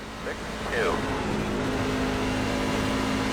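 NASCAR truck engines race at Darlington in the iRacing game, a loud continuous high engine drone with a brief pitch sweep early on and a person talking over it.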